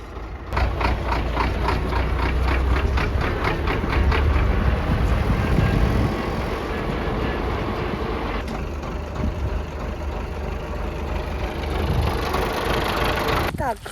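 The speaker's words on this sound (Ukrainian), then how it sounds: "Он наш трактор їздить." An MTZ-82 tractor engine runs steadily throughout, a loud, constant diesel rumble with a faint rhythmic knock and no pauses.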